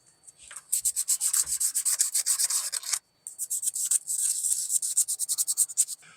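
Knife handle scales are scuffed before gluing with epoxy, a fast rhythmic rasping scrub in quick strokes, close and bright, with one brief pause midway and no voices.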